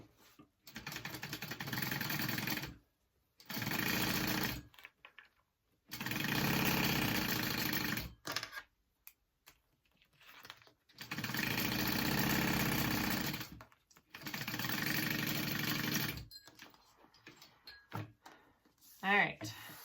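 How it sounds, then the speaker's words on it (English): A sewing machine stitching handbag slip pocket pieces with a 3/8 inch seam runs in several bursts of two to three seconds each, with short pauses between them, close and fairly loud. "I'm gonna sew them together. I'm using a 3/8 seam allowance."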